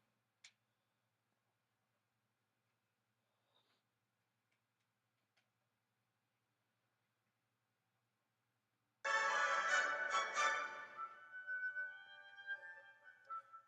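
After a long near-silence broken by a few faint ticks, the trio section of a Beethoven piece starts loud and full, playing on through the last few seconds.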